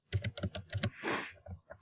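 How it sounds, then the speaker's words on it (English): Quick bursts of typing on a computer keyboard, a run of close, crisp key clicks in an uneven rhythm, heard alone in a quiet room. "you're going to type in this number of words"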